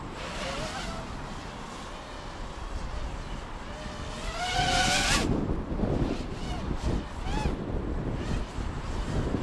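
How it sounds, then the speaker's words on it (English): Wind blows outdoors, rushing and buffeting the microphone in a steady roar that swells into a stronger gust partway through. "Oh man, I hate this wind."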